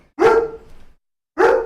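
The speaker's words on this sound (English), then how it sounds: "sorry if you hear my dogs" A dog barks twice, close and loud. The barks are short and sharp with a brief pause between them.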